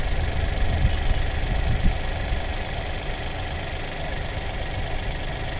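A Skoda Rapid car engine idles with the bonnet open, giving a steady, close, continuous mechanical hum with a slight irregular knock and no voices.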